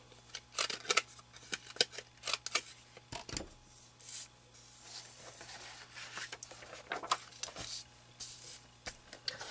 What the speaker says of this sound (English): so I'm going to cut this to fit as a mat